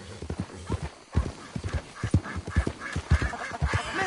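A horse's hooves clip-clop in Red Dead Redemption 2, a steady near rhythm of hollow knocks with faint game ambience behind.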